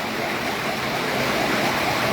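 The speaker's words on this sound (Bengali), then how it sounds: "আমাদের কুমিল্লা আজকে প্রচুর বৃষ্টি হঠাৎ করে মাত্র বৃষ্টি আসলো" Heavy rain pouring down in Cumilla, a dense, steady hiss of water filling the whole space, close and even, with no voices over it.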